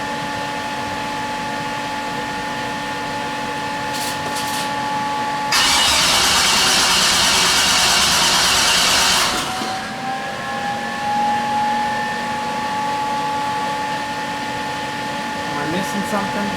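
An engine starts up and keeps running, with a steady mechanical hum throughout and a loud rushing burst of noise for a few seconds in the middle.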